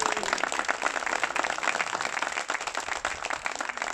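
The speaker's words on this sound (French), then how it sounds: "que vous pouvez applaudir une nouvelle fois" An audience at a political rally in Machecoul applauds, a dense steady roar of many hands clapping for several seconds, close and loud without a break.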